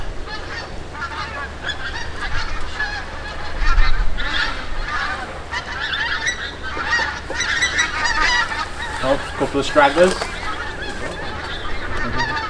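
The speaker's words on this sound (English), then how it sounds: "Yeah, massive flock of geese just coming over us." A large flock of geese flies overhead in the countryside, their many honking calls overlapping loudly and rising and falling over a steady background hum, while someone briefly speaks over them.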